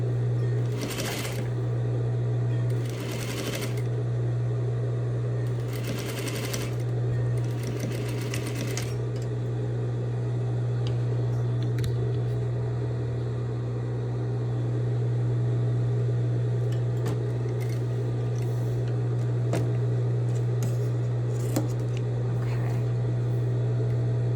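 Close sewing machine stitching bias tape facing at a half-inch seam, a steady motor whir with rapid needle ticking, broken by a few brief bursts and pauses of fabric handling.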